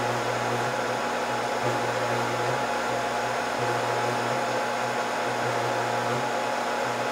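Scotle IR 360 rework station's hot air upper heater blowing onto a chip component during the reflow stage, a steady broadband rushing airflow with a low hum, continuous and close throughout, no talking.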